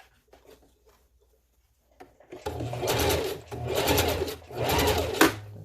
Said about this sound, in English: So I'm going to stitch here more than once to make sure it's nice and tight.